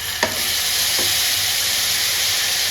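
Peanuts fry in a pan for tamarind poha, giving a constant bright sizzle with a couple of quick scraping stirs near the start.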